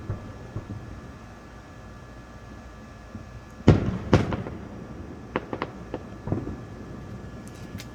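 Distant fireworks over a city, a low background rumble broken by a pair of sharp booms and then several smaller scattered pops and crackles.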